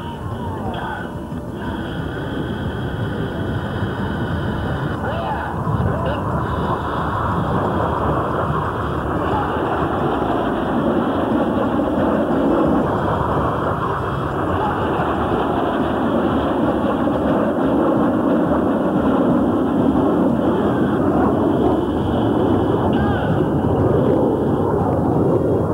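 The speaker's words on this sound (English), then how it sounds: "the skill of the Red Arrow pilots, Reds 1 through to 5 approach at 250 knots in a V formation to perform synchronized rollback maneuvers around the leader" Red Arrows jets flying in V formation at an airshow make a loud sustained roar that swells and sweeps past over about twenty-five seconds, with a commentator talking over the noise.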